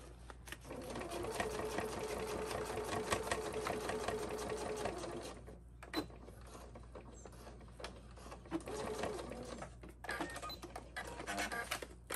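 A sewing machine stitches a zippered pouch in a fast, quiet, rapid-fire run for about five seconds, followed by a few short stitching bursts and handling clicks.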